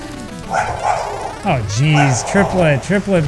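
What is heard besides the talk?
pet dog barking in the background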